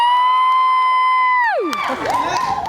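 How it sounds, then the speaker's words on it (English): Audience aboard a fan convention cruise cheers, opening with a long sustained whoop that slides down in pitch and breaks into a mixed burst of crowd shouts and cheers. "Everybody kind of feels obligated to cheer like that."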